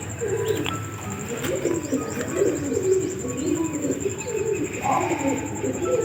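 Several pigeons coo in soft, throaty, repeated calls close by, overlapping steadily with a faint chirp or two in the background.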